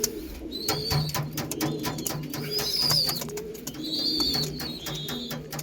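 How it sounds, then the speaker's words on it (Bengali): Pigeons coo nearby in low, repeated throaty calls, joined by scattered clicks and shuffling. "দেখুন পায়রা"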